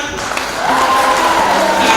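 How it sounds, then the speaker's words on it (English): Applause from an audience of students at a girls' high school session, building after a brief quiet start into sustained moderate clapping, with a faint tone running underneath. "A round of applause for Miss Sheila."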